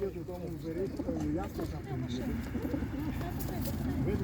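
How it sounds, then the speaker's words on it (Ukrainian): Pigeons at an animal market in Ivano-Frankivsk coo repeatedly in low, warbling phrases, close by, while people talk over them. "А чиї це голуби?"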